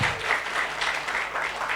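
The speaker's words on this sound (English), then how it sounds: "please give applause to all the speakers" Steady applause from a seminar audience at a summer course session, thanking the speakers; dense, even clapping with a faintly pulsing rhythm, moderately near, lasting under two seconds with no voices.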